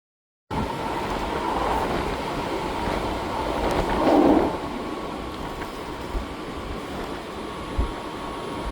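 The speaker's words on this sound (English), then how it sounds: "We checked out of our hotel and hopped on a short train to Kyoto." Steady rumble of a short train ride to Kyoto, Japan, heard from inside the carriage, with a continuous low drone, a brief swell of louder rattling midway and faint clicks near the end.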